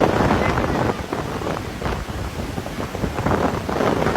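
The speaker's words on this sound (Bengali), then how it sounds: "ঝড়ো হাওয়া।" Gusty storm wind from Cyclone Remal batters the microphone on the coast, a loud, continuous roar rising and falling in surges throughout.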